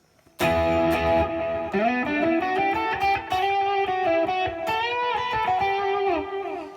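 A sustained electric guitar lead plays a melodic line through a Line 6 HX Stomp with Tube Screamer overdrive, notes ringing with delay and echo trailing behind them, loud and close.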